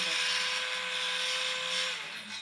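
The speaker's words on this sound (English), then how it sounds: "Do a sawzall and just cut the stand stick off." A reciprocating saw cuts through a stand stick on a mold, giving a loud, steady, buzzing whine with a sustained tone that slows and drops in pitch as the blade stops.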